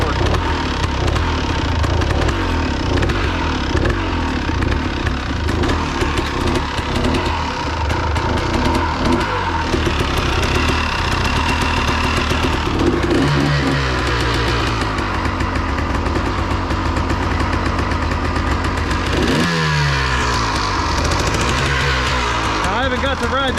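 A Ford 4000 tractor engine runs steadily and loudly up close, a rough continuous drone with slight shifts in pitch, while someone talks over it.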